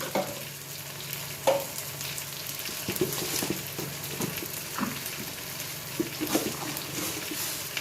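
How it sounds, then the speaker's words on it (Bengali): Mashed roasted eggplant with pepper and sugar sizzles steadily in a pan, with scattered scraping stir strokes and soft clicks over a continuous frying hiss. "এবার এটাকে পুরো কষাবো"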